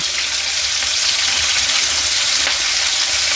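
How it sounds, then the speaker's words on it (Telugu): Chopped onions frying in a pan of oil for ajwain rice, a dense, loud, even sizzle with faint stirring throughout and no voices. "మంచిగా వేపుకోవాలి కొద్దిగా గోల్డ్ కలర్ రావాలి"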